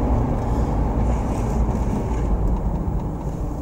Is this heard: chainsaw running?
no